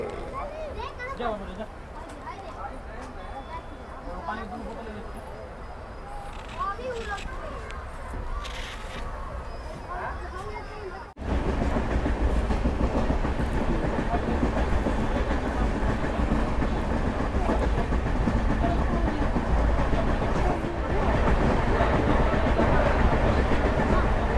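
Capital Express train rolling after leaving Siliguri station, steady loud rumble and rattle inside the carriage, growing louder halfway through, with people talking and background chatter throughout.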